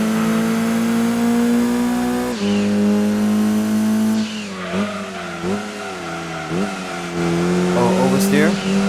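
Car engine in Gran Turismo 2 climbs steadily in pitch, a loud synthesized drone that drops at gear shifts, with tire squeal near the end and someone talking over it.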